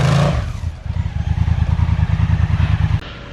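A motorcycle exhaust rumbles close up with a steady, throbbing low idle that pulses evenly for a few seconds, then cuts off abruptly near the end.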